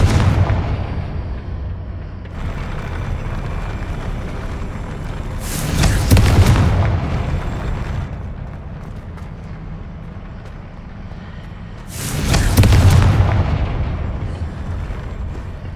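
Two heavy magical blasts from the Confringo fire spell in Hogwarts Legacy, each a deep booming burst with a crackling tail, spaced several seconds apart over a steady ambient rumble.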